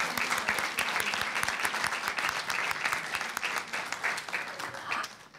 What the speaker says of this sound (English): Let's give Kenny another round of applause.